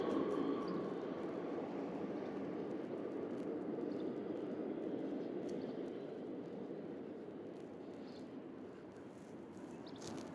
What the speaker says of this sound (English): you can hear the subway